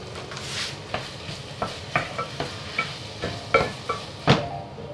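Meat and vegetables cooking in a pan give a light sizzle beneath a series of sharp clinks and scrapes from a utensil stirring against the pan, spaced irregularly about every half-second and loudest near the end.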